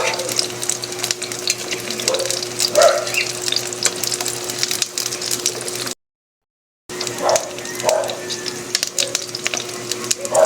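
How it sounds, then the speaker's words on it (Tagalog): Slices of eggplant sizzle steadily in hot oil in a frying pan for a spicy sautéed eggplant dish, with a continuous crackling fry and occasional louder pops, broken by a brief gap of silence. "Tatapusin muna natin yung pagpiprito."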